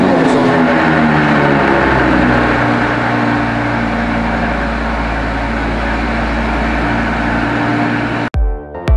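A Porsche Cayenne engine running after being switched on, a loud, steady low hum with a constant rumble that continues unchanged before cutting off abruptly near the end.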